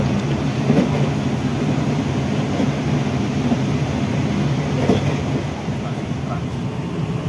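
Inside a direct economy train running from Jakarta to Semarang at about 100 km/h, a loud, steady rumble carries through the carriage, with faint rhythmic clicks of the rails and no clear talking.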